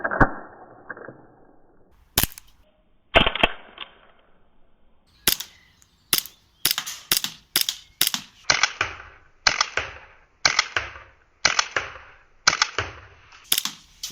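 An R31 CO2 airsoft pistol from Army Armement fires a series of sharp, close pops, first a few spaced shots and then a quicker irregular run of a dozen or so cracks, with near silence between them.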